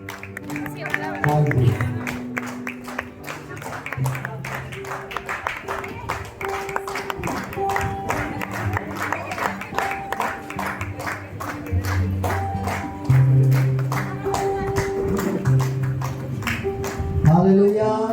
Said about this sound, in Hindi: ताली बजते रहे तो अच्छा है।